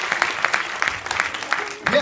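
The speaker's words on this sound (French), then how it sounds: "Petit applaudissement pour elles" Small audience giving a short round of applause at an anniversary gathering, a thin scattering of claps at moderate distance, with a voice briefly heard near the end.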